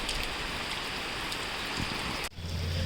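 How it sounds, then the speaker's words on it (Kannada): Steady rain pouring down at a temple town, a dense hiss of drops on surfaces that runs on and then drops away abruptly near the end, leaving a quieter low hum. "ಮಳೆ ಮಾತ್ರ ಹಿಂಗಿದೆ. ಜೋರಾಗತ್ತೆ ನಿಲ್ಲತ್ತೆ, ಜೋರಾಗತ್ತೆ ನಿಲ್ಲತ್ತೆ."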